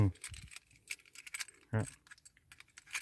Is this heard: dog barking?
no